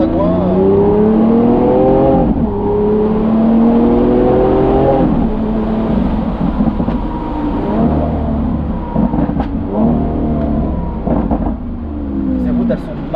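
A Lamborghini Aventador S engine revs and surges while driving on a country road, its pitch climbing and dropping through repeated gear changes, loud and close from inside the car, with people talking over it.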